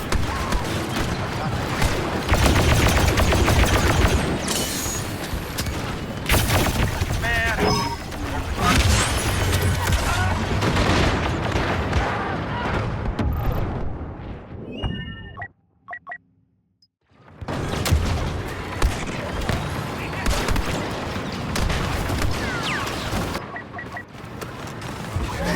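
Heavy blaster fire and explosions roar almost continuously through a Star Wars Battlefront II battle on Jakku, dense and loud, with a brief near-silent break in the middle before the barrage resumes, and in-game voices call out over it.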